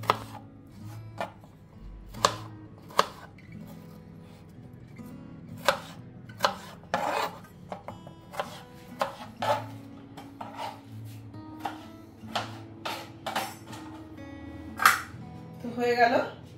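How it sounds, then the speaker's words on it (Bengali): Potatoes cut by hand with a knife for a drumstick and potato curry: a run of sharp, irregular blade strikes against a board, close and fairly quiet, with a voice talking at times between the cuts. "এইভাবে আমি সব আলুগুলো কেটে নেব।"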